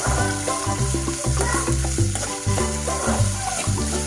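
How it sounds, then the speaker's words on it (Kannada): Onion and green chilies fry on high heat for okra gojju, a continuous loud sizzle with stirring, partly masked by steady background music. "ಹೈಯಲ್ಲಿಟ್ಟು ಚೆನ್ನಾಗಿ ಫ್ರೈ ಮಾಡ್ಕೋಬೇಕು."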